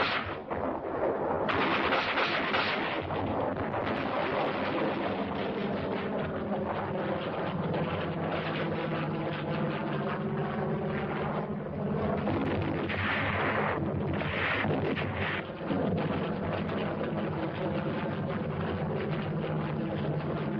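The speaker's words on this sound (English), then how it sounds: "The auto rifle." Automatic rifle fire in the Korean War chatters in sustained loud bursts, dense and harsh, layered with heavy battlefield rumble throughout, no speech.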